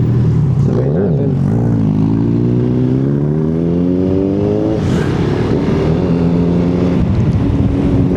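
Kymco Xciting 400 scooter with a 400cc engine accelerating hard, its loud droning pitch climbing steadily through a rise, easing briefly, then pulling again, close and continuous for several seconds.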